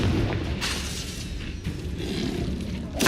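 A loud, sustained fiery blast rumbles from a Confringo spell in Hogwarts Legacy, a booming explosion with crackling burst texture that holds for a few seconds before a sharp final pop.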